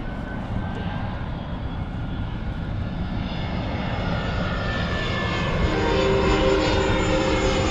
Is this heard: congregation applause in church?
no